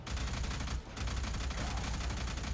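Sustained rapid gunfire from the sci-fi shooter game Alien Rage, a dense, loud barrage with a brief break near the start before the shots resume continuously.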